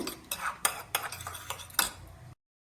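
A spoon stirs chili sauce into cauliflower in a metal pan, making a run of sharp, close scraping and clinking strokes at an uneven rhythm, then stopping abruptly into silence.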